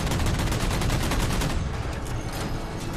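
Rapid sustained gunfire mixed with heavy weapon blasts during a Halo 4 campaign battle, a loud dense rattle that continues for seconds and eases slightly toward the end.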